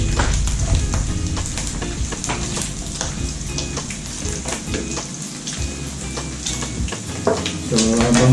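Pork browns in a pan for a home-style munggo dish, sizzling steadily and loudly up close with a dense crackle, scattered sharp pops and a few utensil clinks near the end.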